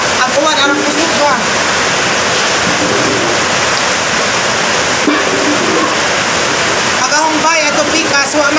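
Heavy rain pours onto a house in a dense, loud, continuous roar, with voices speaking now and then under the downpour.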